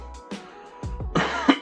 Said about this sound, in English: sorry about the coughing into the mic